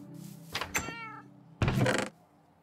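A cat in a video game meows clearly, with one short cry followed by a longer, louder meow after a brief pause, close and with no talking.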